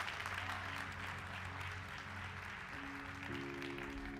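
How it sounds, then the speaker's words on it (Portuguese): Church congregation applauding at an evening service, a steady, dense wash of clapping with sustained tonal hum from music or organ beneath, continuous and fairly loud throughout. "Você pode dar um aplauso e dizer amém nessa noite, irmão?"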